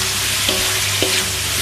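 Beef sizzles and fries in a pan for a spicy stir-fry, a loud, steady crackling hiss with a couple of brief clinks from stirring.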